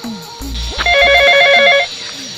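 A telephone rings with a short electronic trill lasting about a second, loud and close, over a low background hum.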